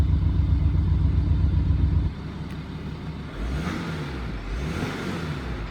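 A BMW diesel engine in an X5 or X6 with the Active Sound system switched off, first a loud steady low drone, then dropping to a quieter hum before rising and falling in revs like gentle acceleration.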